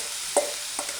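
Jerk shrimp and chicken hiss in a hot pan with a steady bright sizzle, broken by a couple of short stirring scrapes, nearby and moderately loud.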